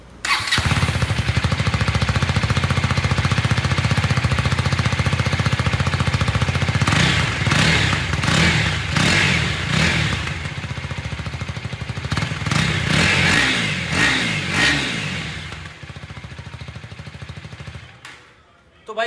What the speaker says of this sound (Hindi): एक बार ना इसका एग्जॉस्ट नोट सुन लेते हैं।